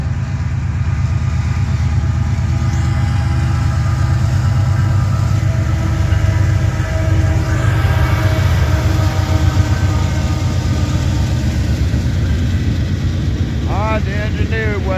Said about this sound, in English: It's the train coming out of the south. I mean out of the north. Headed south.